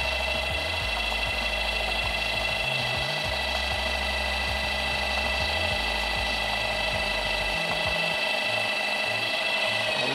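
A small electric motor drives a generator charging a battery, giving a steady whine and hum with a fluttering low-end rattle that shifts in speed, close and continuous with no voices.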